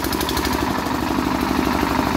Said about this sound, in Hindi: शायद इसका इंजन अभी रिपेयरिंग मांग रहा है, ज़्यादा लोड नहीं ले पा रहा है।